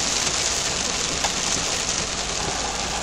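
Hail and rain pounding steadily during a supercell thunderstorm, a dense, continuous broadband patter with no pauses, loud and close, as if striking a vehicle or nearby surfaces.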